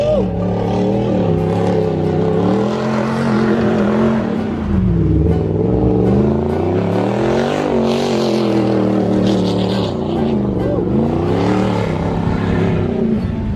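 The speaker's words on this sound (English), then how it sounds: "that Raptor sounds sick" A Ford Raptor truck engine revs hard and continuously, its pitch climbing and falling in repeated sweeps, loud and close throughout.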